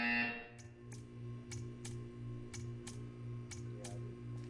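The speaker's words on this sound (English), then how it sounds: "You will hear a buzzer." A buzzer sounds in a Nintendo Switch game while the player stands before a piece of art, opening with a longer tone and then giving a row of short, evenly spaced pulses over a steady background hum.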